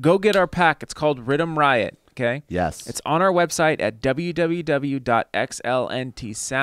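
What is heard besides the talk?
No distinct noise like a dog, phone or traffic.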